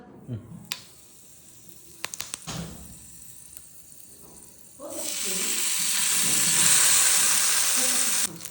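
Fish frying in a pan on a home stove: after a few clatters and brief bits of speech, a loud, bright sizzle bursts in and holds steady to the end.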